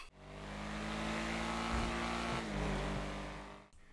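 A car engine in the GTA Online video game revs hard and continuously, a loud, close, buzzing drone that surges and dips slightly mid-way before cutting off abruptly at the end.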